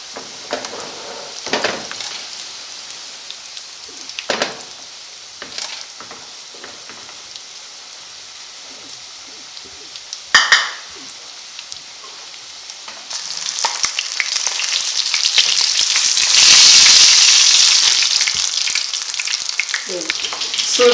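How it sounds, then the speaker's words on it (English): Scotch eggs deep-frying in already-hot oil until golden brown, a steady bubbling sizzle with a few sharper spits early, swelling into a louder, denser hiss in the second half, with no talking. "we're going to dip them in oil, which was already hot, and just leave them to fry till golden brown"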